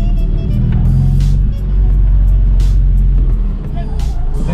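An Acura RSX Type S car laps a race track, its engine roaring loud and steady from inside the car as the revs climb and drop through the gears.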